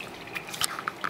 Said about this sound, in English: More water noises.